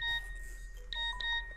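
A phone's SMS notification tone chimes as text messages arrive from a PC sending service, giving a few short, bright electronic beeps in quick succession, fairly quiet and alone.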